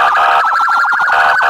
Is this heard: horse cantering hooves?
no